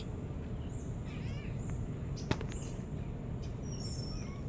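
A kitten gives a few faint, brief meows, barely rising above a steady, noisy outdoor background with no talking.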